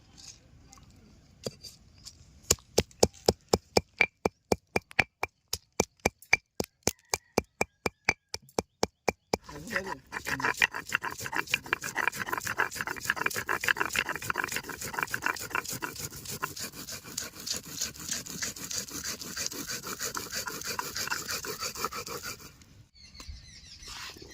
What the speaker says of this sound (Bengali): এবার শুকনো লঙ্কাগুলো বেটে নেব।